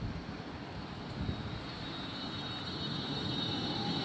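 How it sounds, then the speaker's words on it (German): An S2 tram-train pulls away from Hagsfeld station with a continuous broad rumble and faint high whine, holding steady at a moderate distance. "So, die fährt jetzt zu der Station weiter, wo wir vorhin waren."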